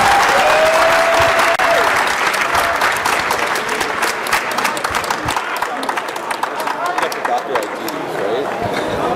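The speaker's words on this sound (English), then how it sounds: "give Todd and all the other organizers a huge round of applause for putting on MHacks" Hackathon crowd at MHacks closing demos gives the organizers a loud round of applause, dense clapping that slowly thins into scattered claps, with some talk and babble underneath.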